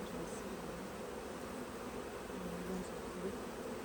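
Honey bees hum in a dense, steady drone close by at an open hive being readied for winter, an even buzz with no voices.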